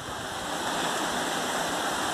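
A waterfall on the Furnas trail up Mestre Álvaro in Serra, Espírito Santo, roars with steady broadband rushing water, close and continuous throughout.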